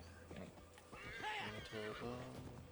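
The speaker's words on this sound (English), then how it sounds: "Oh, sorry, little donkey." A donkey in the video game Assassin's Creed Valhalla brays in a few harsh, hoarse bursts, with hoof clip-clops and murmured speech underneath, moderately quiet.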